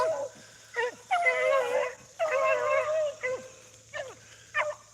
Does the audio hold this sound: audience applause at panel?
no